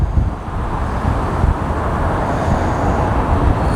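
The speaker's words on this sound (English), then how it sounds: "I'm sure there's lots of road noise here, lots of wind noise." Gusty wind, gusting to 30 knots, mixes with road noise into a loud, steady, broadband roar. It holds continuously with slight surges and has no distinct events.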